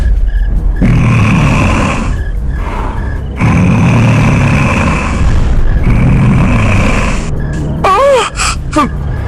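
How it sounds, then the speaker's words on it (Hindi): Heavy, rasping breaths come in long, rough waves, loud and close, with short pauses between, ending in a wavering whine and a few sharp clicks. "लेकिन वही सांस लेने की आवाज आने लगी।"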